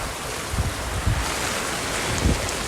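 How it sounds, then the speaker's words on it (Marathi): Floodwater waves wash through a village, a churning, wind-buffeted roar with a few heavier surges, loud and close, with no voices. "पाणीच्या लाटा"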